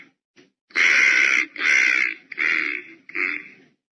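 A crow gives four loud, harsh caws close by, the first two long and drawn out and the last two shorter, with brief silent gaps between them.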